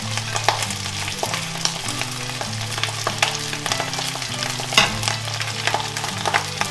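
Seasonings stirred into rice and carp in a hot pan, with a constant close sizzle and repeated scraping and clinking of the stirring utensil, over low background music.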